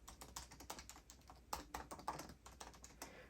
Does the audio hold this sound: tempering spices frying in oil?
no